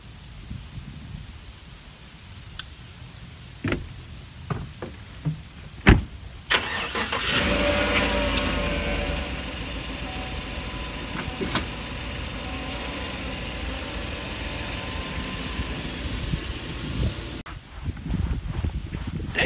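A farm tractor engine cranks after a few knocks and clunks, then idles and runs steadily for about ten seconds before cutting off, with some light clatter around the start and finish.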